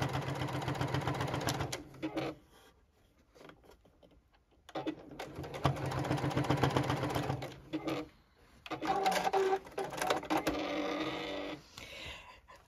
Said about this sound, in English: And I'm sewing all the way around.